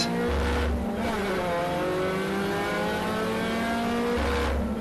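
Mini Challenge Clubsport race cars launch from a standing start at Donington Park, their engines roaring and rising in pitch as the pack accelerates together, loud and close.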